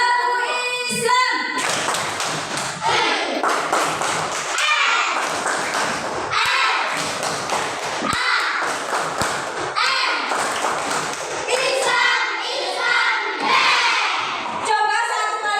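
Children doing the Tepuk Islam clapping chant together, a loud group of young voices shouting in rhythm with bursts of sharp hand claps, repeated in quick patterned phrases.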